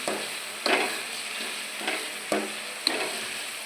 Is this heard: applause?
no